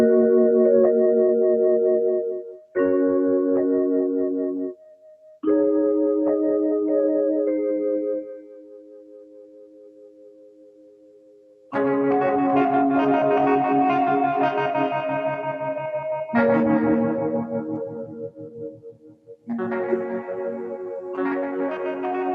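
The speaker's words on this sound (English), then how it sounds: "This is a really heavily affected patch using our reverb and ensembles and LFOs that we have in M-Tron Pro 4." A Mellotron patch from M-Tron Pro 4, heavily treated with reverb, ensemble and LFO modulation, plays swelling, wavering chords with short pauses, one long soft fading tone, then denser, brighter sustained passages.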